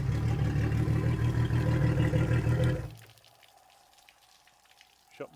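Water runs steadily from a garden hose flushing a Yamaha 225 four-stroke outboard, a loud rushing spray that cuts off abruptly partway through, leaving near-quiet with a faint clunk at the end.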